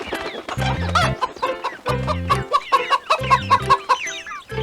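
A cartoon hen clucks with her chicks in quick rhythmic bursts, close and loud, with short peeping calls and bouncy music hits between them.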